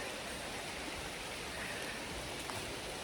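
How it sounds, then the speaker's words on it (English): Steady broadband rush of creek water flowing below a forest walking track in Dorrigo National Park, faint and continuous with no voices. "I can hear the sound of water flowing. There's actually a creek down below."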